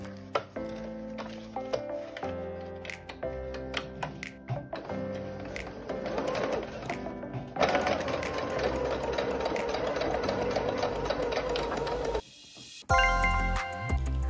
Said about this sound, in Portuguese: Eu vou costurar 1 centímetro nos 4 cantos.